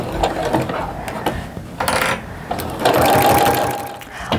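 A sewing machine runs a basting stitch around a double-layered oven mitt, loud and close, in uneven bursts with brief pauses and clunks as the fabric is turned at the corners.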